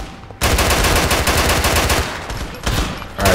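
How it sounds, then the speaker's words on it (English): Rapid automatic gunfire in Grand Theft Auto IV, dense bursts of loud shots close by with a brief gap before firing resumes. "And they all shooting at each other,"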